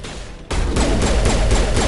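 In Mass Effect gameplay, shotgun fire kicks in after a quiet moment: a loud, steady run of roughly five evenly spaced heavy blasts, close and alone.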